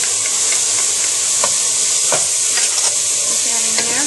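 Chopped garlic and ginger stir-fry for chicken chow mein, producing a loud, continuous sizzle with occasional scraping stirs of the pan, close up and without talk.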